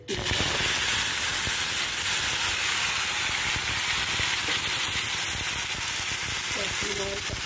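A steady, loud sizzle of onion, ginger and garlic paste frying in hot oil, a continuous crackling hiss throughout with a faint clink near the end.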